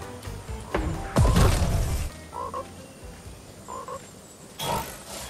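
Frog croaks from the video game Fortnite, a few short tonal calls spread across the moment, mixed with loud thumps and game noise in between.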